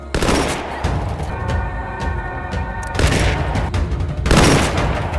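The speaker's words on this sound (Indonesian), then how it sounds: "sniper Jerman yaitu Scud sudah menjaga tempat itu sejak kemarin hingga pasukan infanteri Soviet dibantai habis olehnya" Loud, close bursts of gunfire and booming shots from a war film in which a German sniper kills Soviet infantry, several heavy blasts with ringing decay, with no talk.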